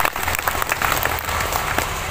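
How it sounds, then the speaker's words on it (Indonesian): An audience applauds a visiting preacher, Ustaz Jeffrey, at an Islamic sermon gathering, with dense steady clapping filling the room at a moderate level throughout. "Tepuk tangan buat Ustaz Jeffrey."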